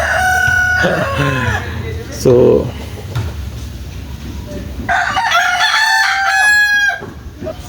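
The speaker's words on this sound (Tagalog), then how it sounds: "background natin yung mga manok maingay" Roosters crow repeatedly with long rising calls, loud and close, alongside clucking chickens, while someone talks over the noisy flock.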